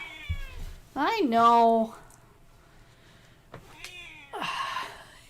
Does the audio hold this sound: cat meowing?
yes